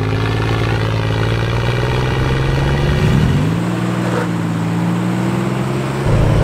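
A 1993 Toyota 4Runner SR5 with a 3-liter V6 pulls hard at full throttle in two-wheel drive, its engine note droning loud and rising in pitch, dipping around a gear shift near the middle and again near the end.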